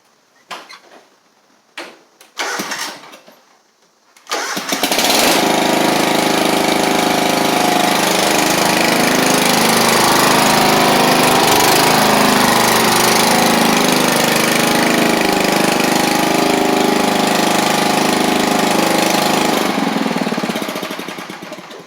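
A John Deere LX176 lawn tractor with its deck removed is heard after a few clunks and knocks, then its engine starts and runs steadily and loudly close by for most of the stretch, fading slightly at the end.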